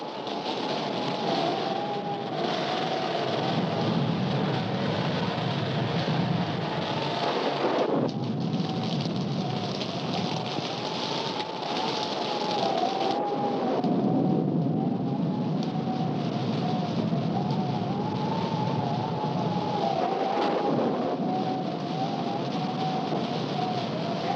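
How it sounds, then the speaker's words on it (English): Thunderstorm with steady, heavy rain and rolling rumbles of thunder, a continuous loud wash of sound throughout with no voices. "we'd better get out of here before this storm gets any worse."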